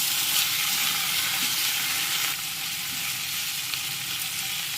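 Half a kilo of ivy gourd (dondakaya) with turmeric frying in a pan, a dense, steady sizzle filling the clip, close and loud, with faint stirring beneath.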